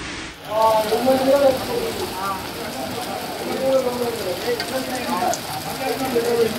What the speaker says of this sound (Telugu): హైదరాబాద్ లో వర్షం దంచుకొట్టింది